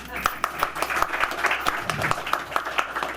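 Scattered clapping from a small audience at a historical society meeting after a treasurer's report is adopted, a few hands striking at an uneven pace beneath ongoing talk.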